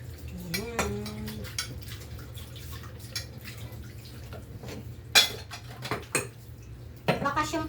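Dishes, pots and cutlery clatter and clink at a home kitchen sink during a big solo washing-up, with dripping water, scattered sharp knocks, a brief hum early on, and low background noise throughout.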